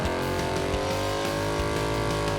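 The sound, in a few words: car engine revving with Heartthrob performance exhaust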